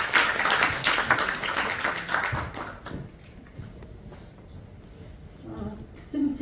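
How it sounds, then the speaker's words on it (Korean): Audience applause at a Korean literary association poetry recital contest, a dense burst of clapping for about three seconds that then thins out into quiet room murmur. "네, 박수 부탁드립니다."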